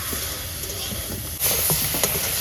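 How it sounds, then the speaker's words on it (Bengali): Crabs land in hot oil in a wok at an outdoor picnic in the Sundarbans, setting off a sudden loud burst of hiss and sizzle midway that continues close up, with voices talking before and during. "তেল গরম হয়েছে, কাঁকড়াগুলো দিয়ে দিলাম।"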